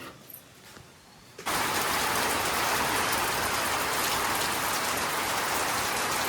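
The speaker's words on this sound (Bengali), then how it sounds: "এদিকে বৃষ্টিও শুরু হয়েছে" Steady, dense rain begins to pour at a village home, starting abruptly after a quieter stretch and then holding as a loud, even hiss with no talk over it.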